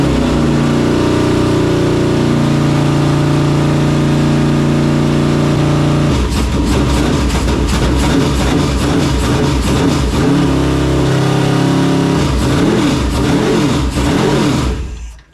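A crashed dirt late model race car engine idles steadily, then revs repeatedly in loud rising and falling bursts, close by and with no talk.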